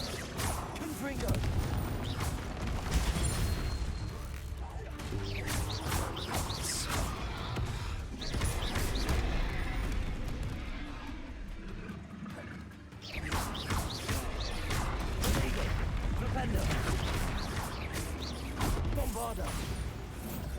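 Confringo fire spell blasts in Hogwarts Legacy combat, several loud bursting impacts and crackling hits spread across the stretch, mixed with a person talking and battle noise.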